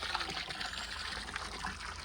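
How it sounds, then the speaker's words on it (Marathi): Hot water pouring from a bucket, a steady broadband splashing rush that runs unbroken and fairly close throughout, with no talk over it. "गरम पाण्याची एक बादली दी बारकी."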